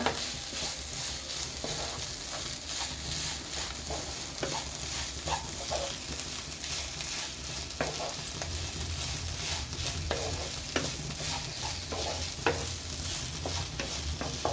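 Chicken thoran with lemon juice is stirred in a pan: a continuous, fairly quiet sizzle with repeated scraping and tapping strokes of a spoon over about fifteen seconds, heard up close with no voices.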